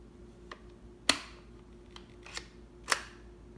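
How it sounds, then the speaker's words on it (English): A Remington Sportmaster 341-P .22 rifle bolt being closed by hand, giving a few crisp metallic clicks and clacks, two sharper snaps standing out among lighter ticks, close and alone with no talk. "The bolt was open already, so I'm going to close it"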